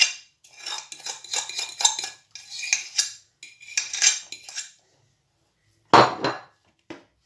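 Flour and potato are mixed in a bowl for potato rosquillas, giving bursts of scraping and clinking from a utensil against the bowl, close by, in irregular strokes with short pauses and a sharp knock near the end.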